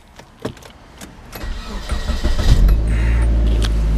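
A car engine cranks with a few faint clicks and a rising starter whir, catches, and settles into a steady loud idle close by, with no talking over it.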